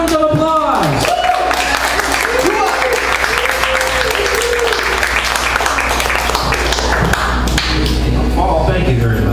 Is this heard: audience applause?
yes